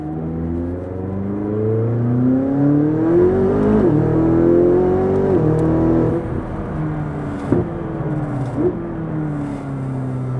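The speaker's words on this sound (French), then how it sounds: "Tu pourras accélérer un petit peu aussi dans la ligne droite si tu veux." A powerful McLaren sports car engine revs up through rising gear pulls, each shift dropping the pitch before climbing again, loud and close throughout.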